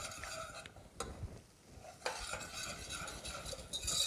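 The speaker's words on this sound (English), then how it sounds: "So we'll just go ahead, just release it, stir it." A spoon stirs veal osso buco sauce in a pot, scraping and sloshing in bursts with a soft sizzle beneath and brief pauses between strokes.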